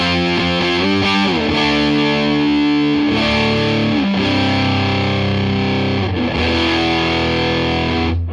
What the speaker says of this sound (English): The thing about Muff-style fuzzes is they really fill out the tonal spectrum, particularly in the highs and the lows